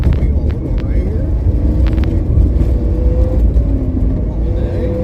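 Interior engine rumble of a third-generation Chevrolet Camaro on a track, a loud steady low drone with occasional higher whines, with talk over it.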